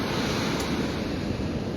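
Steady ocean surf washes onto the shore in a continuous broadband roar, with gusting wind buffeting the microphone throughout and no voices.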